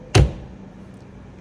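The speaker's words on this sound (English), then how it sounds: "Push that all the way back in until it clicks like you just heard there, and then shut the door." Door of a Swift Gazelle vehicle being shut: a single sharp, close thud with a short low boom that quickly fades into quiet room tone.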